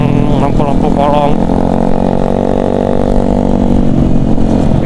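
A motorcycle engine hums and revs steadily on a night-time homecoming road trip, loud and close throughout, with people talking over it.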